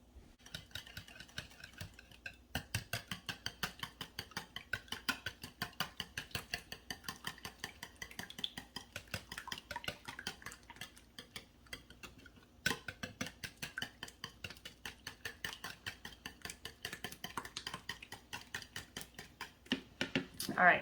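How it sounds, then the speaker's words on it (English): A whisk beating ingredients together in a bowl, fast steady rhythmic clicking against the sides in close, quiet bursts, with a short pause partway through. "I'm gonna get my whisk and we're gonna whisk this together really quick."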